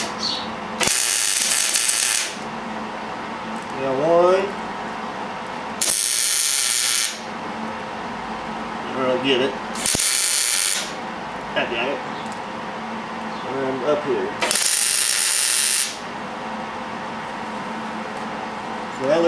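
Tack welding a jackshaft bearing flange onto a motorized bike frame: four separate crackling bursts of a second or so each, close and loud, with a person talking in the gaps between them.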